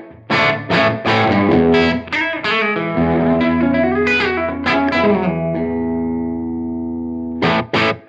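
Electric guitar played through an amp modeller with its room effect turned up: several sharp picked chords and notes, then a long sustained chord ringing with a roomy tail, and a final pair of hits near the end.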